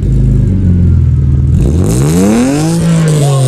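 A BMW E36 3 Series, a 320i or 318is, revs loudly and close, its engine note climbing in rising sweeps after a steady idle rumble.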